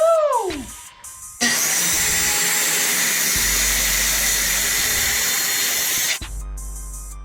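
Power saw cutting through a sheet of plywood using a 1-inch guide, a loud steady whining roar lasting about five seconds, preceded by a brief rising whistle-like tone and a quieter tail as the blade spins down.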